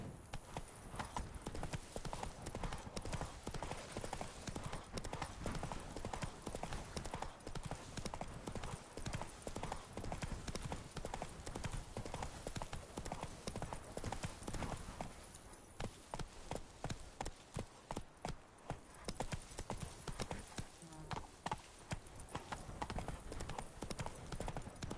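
Roach the horse gallops in The Witcher 3, hooves clip-clopping in a fast, steady rhythm that runs continuously throughout over a loud game soundscape.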